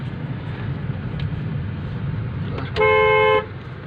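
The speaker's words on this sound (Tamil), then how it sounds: "ஹார்ன் அடிச்சுக்கிட்டே போகும்." A car horn on a winding mountain road through the Kolli Hills hairpin bends gives one steady, loud blast lasting about half a second, rising over a constant low rumble of engine and road noise.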